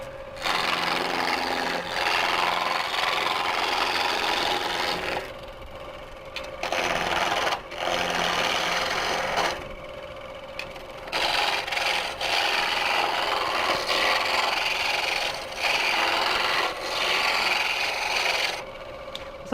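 A piece of ash wood being worked on a lathe or similar machine, giving a loud, steady buzzing rasp in several long bursts separated by short pauses, with no voices.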